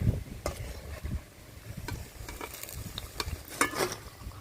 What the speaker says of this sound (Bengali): আমি ঠিক সেইভাবে পেঁয়াজির মতো করে বড়াটা ভেজে নিচ্ছি